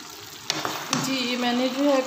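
Chicken and capsicum sizzle steadily in a pan as cornflour paste is poured in and stirred, a few sharp scrapes of the spoon over the constant frying hiss.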